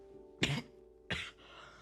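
Two short, harsh coughs about half a second apart, close and clear against a quiet background.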